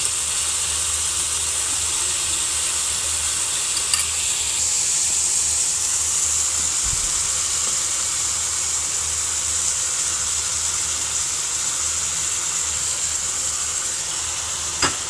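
Four eggs frying in a pan, a steady close hiss and sizzle running evenly throughout, with a couple of faint clicks of utensils and no talking.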